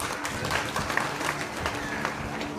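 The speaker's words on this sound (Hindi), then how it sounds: "एक बार हमारे मैनेजमेंट के लिए जबरदस्त तालियां चाहता हूँ" Dense applause from a crowd at a company celebration in Manesar, Gurgaon, steady and broadband throughout with a faint voice or two underneath.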